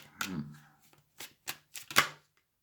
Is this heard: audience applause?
no